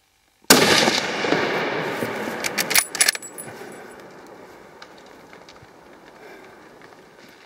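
A single sharp rifle shot cracks loud and close during a gemsbok hunt, its report rolling away into a long fading echo with a few faint knocks and rustles after.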